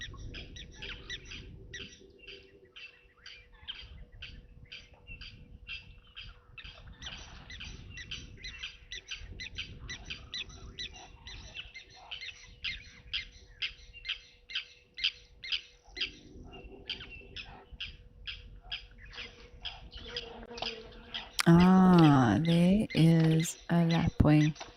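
Small birds chirp in quick, repeated bursts over a steady background, with a sharper, louder squawking call near the end.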